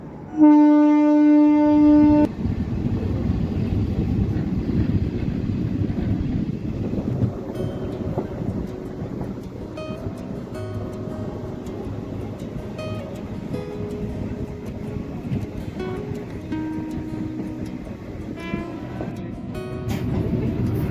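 The Pandharpur Express pulls out of Modlim station: a loud horn blast opens, then a steady rumble of wheels and carriages rolls on with wind buffeting, and a few short tonal squeals come later.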